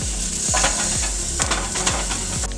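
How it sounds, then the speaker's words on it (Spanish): Garlic and onion fry in a hot pan with a loud, steady sizzle, broken by rhythmic scraping stirs about every half second, close by and with no voices. "Y ahora sí vamos a poner los ajos y la cebolla."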